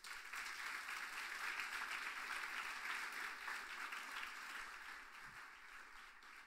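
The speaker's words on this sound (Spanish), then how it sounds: "¿Cuántos le dan un aplauso al Señor?" A church congregation claps for the Lord during a Spanish-language service, a sustained, fairly distant wave of applause that holds steady before slowly easing off.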